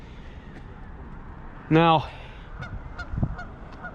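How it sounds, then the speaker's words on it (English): Geese honk over open water at Pymatuming Reservoir in Linesville, with one loud, close honking call rising near the middle. Fainter honks follow behind a voice and steady outdoor background noise. "a lot of geese out there"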